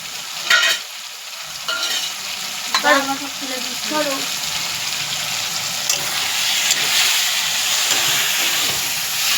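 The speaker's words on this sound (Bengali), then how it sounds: "মিট মশলা দিয়ে নাড়া হচ্ছে।" Meat frying with meat masala in a pan, a loud steady sizzle and hiss that builds over time, with a few scraping stirs early on, close by and without speech.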